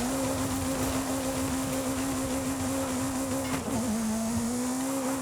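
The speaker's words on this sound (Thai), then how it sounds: "แต่เสียงท่อมันหวานดีนะ หวานมากเลย" A BAC Mono sports car's naturally aspirated engine drones at a steady pitch in the video game Forza Horizon 5, a smooth continuous exhaust note with a brief dip and shift near the end.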